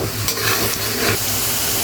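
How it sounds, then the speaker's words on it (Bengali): Ground spices, including coriander powder and garam masala, sizzle and fry steadily in a hot pan while being stirred, a continuous close hiss with soft scraping. "দিয়ে এখন ভালো করে কষাই নিব"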